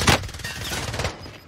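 Gunfire in Call of Duty Warzone gameplay: a sharp loud shot up front, then a rattling burst of rapid fire that fades out after about a second.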